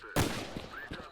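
Gunfire in the STALKER video game, a loud burst of shots at the start followed by a few scattered, more distant shots amid background ambience, with no talk.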